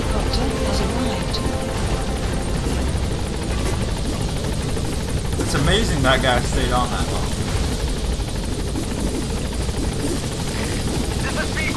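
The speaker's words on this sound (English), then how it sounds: "Support helicopter has arrived." A support helicopter in Metal Gear Solid V: The Phantom Pain thrums steadily throughout with loud, constant rotor noise, while someone talks over it.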